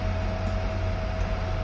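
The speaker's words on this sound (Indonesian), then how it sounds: "IPEGA Cooling Fan ini benar-benar berisik. Suara dari kipasnya terasa cukup mengganggu" An IPEGA cooling fan on a Nintendo Switch dock runs noisily, giving a steady close-up whirring hum with a constant whine and broadband airy rush, without any change or pause.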